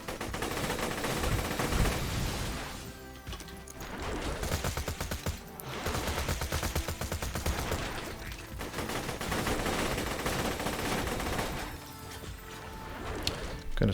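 Sustained bursts of rapid automatic gunfire from the Shredifier gun in Borderlands 2, a dense loud rattling stream broken by short pauses, with mechanical clatter between volleys.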